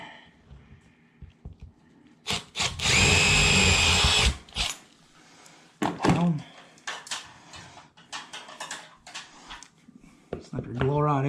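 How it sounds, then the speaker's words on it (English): A power drill cuts a hole in a ceiling for a new ceiling fan. One loud, close burst lasts a little over a second, followed by knocks and handling noises while someone talks. "I'm going to drill my hole right here and fish my rod up so I can find it in the attic"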